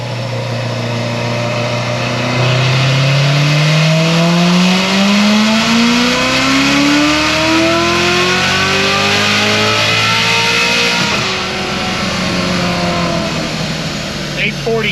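A car with an RPM Stage 4 setup on pump gas revs hard through a dyno pull, its loud engine tone climbing steadily for about ten seconds before easing off, with a whine above it.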